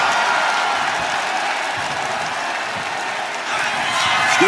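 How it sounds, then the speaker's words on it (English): A capacity arena crowd in the WWE 2K25 wrestling game roars and cheers loudly as a continuous wash of noise, swelling slightly near the end. "you hear this capacity crowd following you on that journey"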